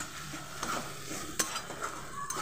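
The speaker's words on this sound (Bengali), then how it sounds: "এবার ভালো করে মিক্স করে নেব" Poppy seed paste being stirred in a frying pan over low heat, with soft scraping strokes and a faint background sizzle, several brief louder clinks of the spoon against the pan.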